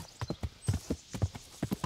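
Horse hooves canter in the medieval video game Kingdom Come Deliverance, a steady clip-clop at moderate volume with no talking.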